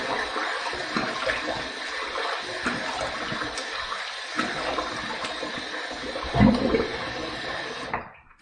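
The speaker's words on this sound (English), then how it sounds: "Now I did kind of a warm water rinse there" Warm water running and splashing over a razor or face during a post-shave rinse at a bathroom sink, a steady close wash of water with a brief louder gush near the end before it cuts off.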